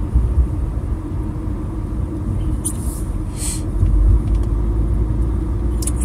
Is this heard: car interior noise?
yes